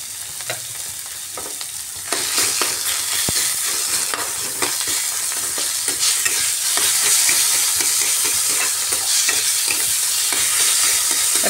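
Turmeric, cumin and salt fry in a hot pan with a steady, loud sizzle, and a spoon scrapes and stirs them in repeated close strokes; no voices are heard.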